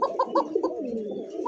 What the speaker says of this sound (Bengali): এটা হচ্ছে মাদি কবুতর মাশাআল্লাহ, দেখেন সাইজ আর ডাকবে তো ডাকে